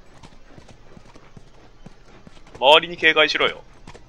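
Horse hooves clip-clop steadily throughout in The Last of Us, a regular rhythmic trot under a brief burst of speech near the end.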